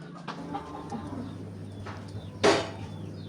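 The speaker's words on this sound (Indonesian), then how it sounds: "Nih ayamku itu nakal banget, dia masuk-masuk rumah karena kebanyakan ayam." A hungry village chicken clucks near a house, a few soft clucks followed by a sharper, louder squawk, with a low background hum and no one talking.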